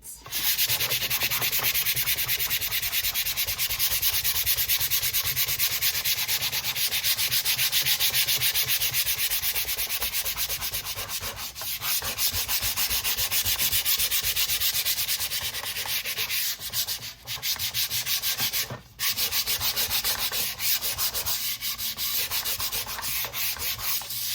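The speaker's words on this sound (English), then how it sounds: "So I'll sand that first, and this is how I sand it." Steady, close scratchy rubbing of sandpaper worked by hand over a wooden mandala base, continuous with brief pauses and no talk.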